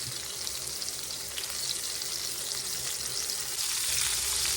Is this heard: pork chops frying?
yes